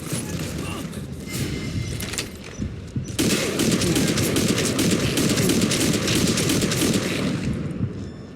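Sustained gunfire in Metal Gear Solid V, dense overlapping rapid shots and mechanical clatter that jump sharply louder about three seconds in and keep up a heavy, continuous barrage.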